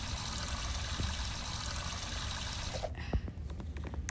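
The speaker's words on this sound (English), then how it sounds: "I wash my hands." Tap water runs in a steady stream while hands are washed at a bathroom sink, loud and continuous for a few seconds before the flow cuts off, leaving faint drips and small clicks.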